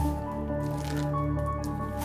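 Soaked material is wrung out by hand in a flood-damaged top-floor apartment, producing a continuous close, wet squishing with water dripping and trickling.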